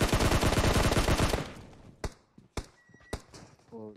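PUBG Mobile gunfire: a dense burst of rapid automatic shots for the first second and a half, then three or four separate sharp, loud cracks spaced apart.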